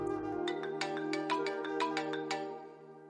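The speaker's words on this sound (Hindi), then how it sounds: "नफीसा का फोन।" A melodic electronic ringtone plays a bright repeating tune of quick tones over a sustained chord, clear and close, fading slightly at the end.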